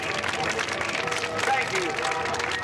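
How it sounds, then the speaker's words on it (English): An audience at the 1976 CNE Aquarama water show applauds, a broad, steady wash of clapping and crowd noise lasting throughout, with an announcer's voice running over it. "let's give them a nice round of applause."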